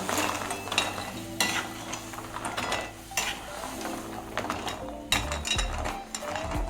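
Sun-dried lentil dumplings tipped into a simmering sour pumpkin curry and stirred in a pot, with a busy sizzle broken by repeated metal spoon scrapes and clinks against the pan.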